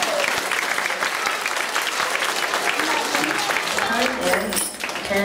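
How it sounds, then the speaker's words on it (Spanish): An audience at a school winter festival claps in a strong, steady burst, with children's voices breaking through as the applause thins near the end. "un fuerte aplauso para quitarnos nervios."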